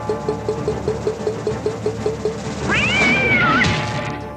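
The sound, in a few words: cat meowing as it is launched at the castle in a pinball game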